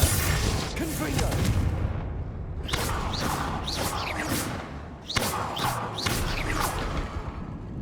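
Confringo explosive spells are cast in Hogwarts Legacy on PS5, several booming blasts with whooshing bursts in quick succession over heavy rumble, while a voice speaks over the action.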